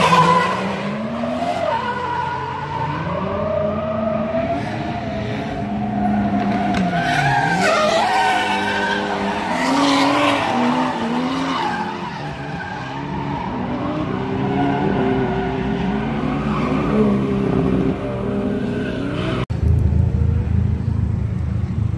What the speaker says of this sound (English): It's pretty epic drifting today.